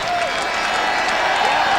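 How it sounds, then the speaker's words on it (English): Boxing crowd at the Palais Omnisport in Bercy, Paris, applauds fighter Byron Mitchell after his bout with Bruno Girard, a dense, steady roar of clapping filling the hall without a pause. "Crowd gives Mitchell a hand"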